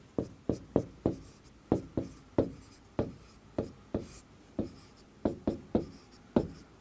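Pen or pencil writing on paper in quick, sharp strokes and taps, an irregular series of about twenty close, crisp scratches with short pauses between them, no voices.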